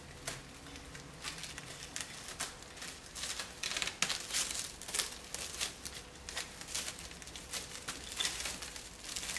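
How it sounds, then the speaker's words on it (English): Plastic wrap crinkling as it is wound around a person's head over dyed hair, close soft crackles and rustling arriving in irregular bursts, with small taps and handling noises between them. "take some plastic wrap and wrap it around my head to make sure that the heat stays in there"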